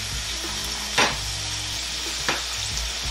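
Fries frying in hot oil for a kabuli recipe: a steady, close hiss of sizzling with two brief louder crackling flare-ups, no voices.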